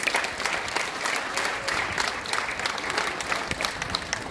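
Clapping from a gathered crowd at a Christmas food-basket handout in Tierra Blanca, a steady, moderately distant patter of many hands continuing unbroken with no voices over it.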